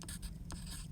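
A pen writes by hand on paper, giving close, soft scratchy strokes in short repeated bursts over a quiet background.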